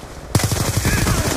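A PDW fires rapidly in the video game Black Ops 2, a sudden burst of fast, evenly spaced automatic shots right up close that continues steadily after a quiet start.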